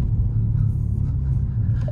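A 2024 Renault Clio, Alpine version, on a road test drive, heard from inside as a steady, loud low engine and road rumble that holds evenly throughout, with no talking.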